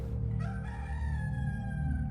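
A rooster crows in one long, loud call near at hand, its harmonic cry held steadily over a low, continuous background rumble.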